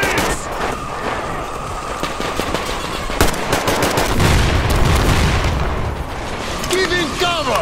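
Rapid bursts of gunfire and heavy impacts fill a Metro Exodus combat scene, dense and loud throughout with overlapping shots and booms, while voices shout in the mix.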